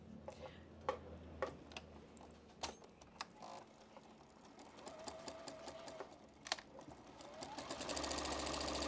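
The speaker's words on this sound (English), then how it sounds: "So all you've got to do is just start sewing." A sewing machine with a walking foot stitches quilt block pieces for a nine patch chain block: soft clicks, then a steady mechanical whirr that builds and runs continuously near the end, quiet and close.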